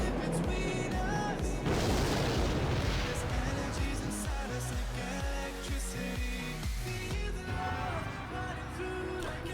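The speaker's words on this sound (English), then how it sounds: "Rocket." A rocket spell explodes in the Clash Royale mobile game, a broad booming burst near the start that rumbles away under busy, repeating game music.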